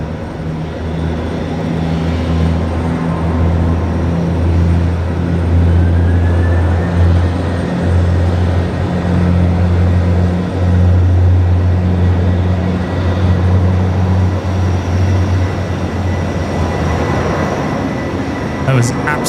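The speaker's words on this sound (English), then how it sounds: "There was absolutely some A380 spool up going on there." Airbus A380 engines spool up at Brisbane Airport at night, heard from far away as a low, steady rumbling drone that swells and holds, with a faint rising whine and people talking over it.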